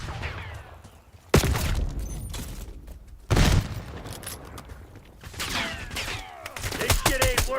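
A shooter video game produces bursts of gunfire and two heavy grenade explosions, a loud boom near the start and another a couple of seconds later, followed by scattered rapid shots.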